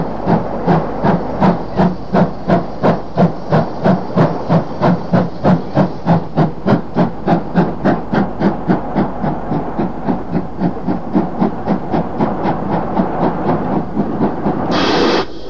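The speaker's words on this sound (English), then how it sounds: "this is one of the Fowler 264 tank locomotives, introduced in 1933." Fowler 2-6-4 tank steam locomotive introduced in 1933, working at New Street station: a steady, rapid chuffing exhaust beat, dozens of even loud puffs over a hissing steam background, ending in a sharper burst of steam.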